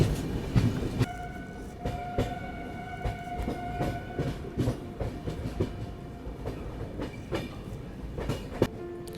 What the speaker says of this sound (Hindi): मथुरा को बहुत ही स्लो रफ्तार में स्किप करेंगे।